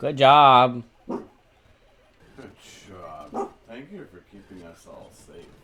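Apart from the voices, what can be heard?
dog barking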